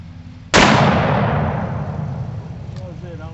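A single sharp, very loud blast from a 454 Casull revolver firing gifted rounds, followed by a long ringing decay outdoors, with faint voices afterward.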